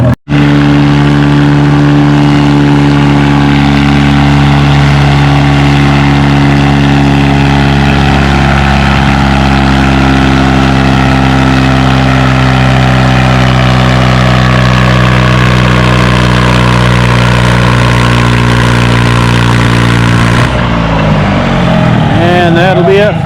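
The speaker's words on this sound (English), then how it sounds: "And that'll be it for Art on his John Deere 435 at 174 feet" A John Deere 435 tractor pulls at a tractor pull, its engine roaring loud and close with a steady, strongly droning tone for most of the stretch, then shifting and winding down near the end.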